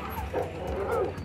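A dog gives short yips and whimpering barks, close and loud, in a quick run lasting just over a second with no other sounds.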